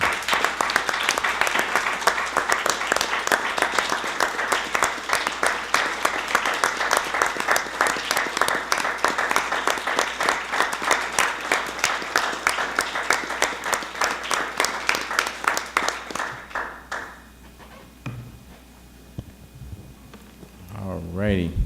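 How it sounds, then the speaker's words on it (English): Audience at an Alamosa city council meeting applauds the police chief with dense, sustained clapping for about sixteen seconds, then the applause fades out into room tone and faint movement. "let's give Chief a round of applause"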